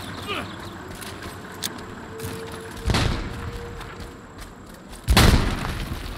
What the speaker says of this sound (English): Grenade going hot!